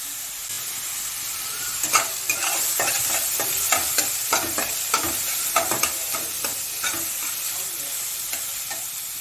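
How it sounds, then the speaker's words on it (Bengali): Bay leaf, whole garam masala, cumin, sugar and finely chopped onion fry in oil, a constant close sizzle punctuated by a quick run of sharp spatula clicks and scrapes against the pan. "তারপর একটা পেঁয়াজ ছোট ছোট করে কেটে নিয়েছিলাম, ওটা দিয়ে দিয়েছি, দিয়ে একটুখানি ভেজে নেব।"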